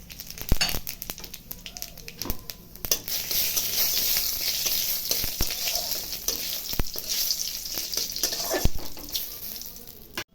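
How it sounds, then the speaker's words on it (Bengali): Dried chilli, bay leaf and cumin seeds hit hot oil for a tempering, a close, loud crackling sizzle with sharp pops and spatters and intermittent stirring clatter, continuous with no talk. "এখন সম্বারা দিব, শুকনো লঙ্কা, তেজপাতা, একটু সাদা জিরা।"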